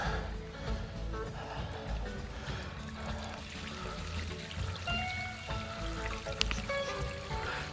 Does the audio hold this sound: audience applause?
no